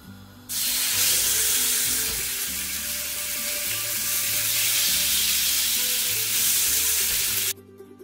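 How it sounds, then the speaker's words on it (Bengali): Chicken seasoned with red chili powder and salt sizzles on a hot, oil-brushed grill pan, loud and continuous for about seven seconds before cutting off abruptly; no talking. "প্রথমেই আমি চিকেনটাকে গ্রিল করে নিব একটু"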